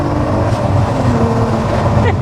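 A supercharged MK4 VW Golf R32 engine roars loudly from inside the car with the window open, a throaty rising drone with supercharger whine, while a voice briefly speaks over it.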